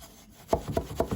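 Weft yarn pulled through and beaten into place on a weaving loom, a run of four quick soft wooden knocks in a steady rhythm after a brief quiet start.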